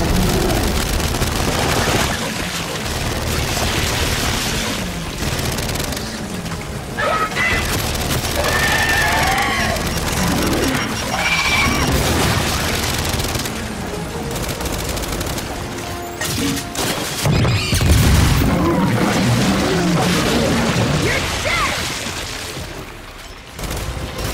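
Carrier creature bursting apart in the Gears 5 video game, amid a dense battle of booms, crashes and gunfire that builds to a loud heavy burst, with shouted voices over the chaos.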